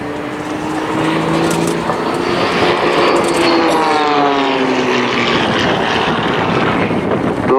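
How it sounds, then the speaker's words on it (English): An Extreme XA41 aerobatic plane with a Lycoming 580 engine flies manoeuvres at an airshow, its loud propeller drone rising and falling in pitch as it climbs, rolls and dives, with a commentator talking over it. "Now watch as he pitches the aircraft back up. Snap rolling, still climbing as he snap rolls the aircraft to the top, and then inverted"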